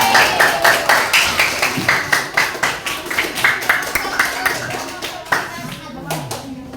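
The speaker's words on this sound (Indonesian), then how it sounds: "tepuk tangan untuk semua kelompok" A school class claps for all the student groups, a close, rhythmic round of hand claps in a steady beat that loosens toward the end, with some talking underneath.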